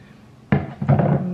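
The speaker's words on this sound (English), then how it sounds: "I'm gonna pour the blend into my cup." A blended drink poured into a salt-rimmed cup: a sudden splashing onset followed by a steady, close liquid pour, with no talking.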